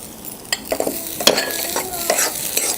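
Garlic, ginger and onion fry for a crab curry, giving a close sizzle punctuated by several sharp spoon scrapes and knocks against the pan, with no speech.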